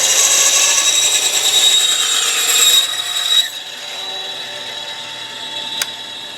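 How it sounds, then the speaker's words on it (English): A bandsaw cuts a long straight edge through a sheet of plastisol, a loud whining buzz of blade in material for about three seconds before the cut ends and the motor keeps running more quietly. "Now I'm going to cut along my long edge, up to my line, but not cutting over my line."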